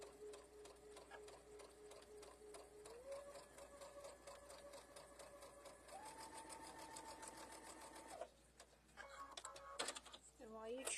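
A sewing machine chain pieces fabric in a steady, rapid stitching rhythm that changes pace midway, then stops and restarts in short runs, fairly quiet and close.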